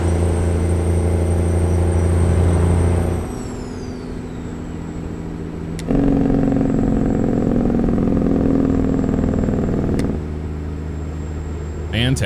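A Detroit diesel truck engine in American Truck Simulator drones steadily at a low pitch, dipping in level around three seconds, swelling again near six and easing off near ten, with faint talk underneath.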